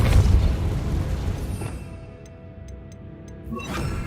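Depulso spell cast in the video game Hogwarts Legacy, a loud low whooshing boom that decays into a quiet tail, followed by a few faint high ticking chimes and a soft closing swell.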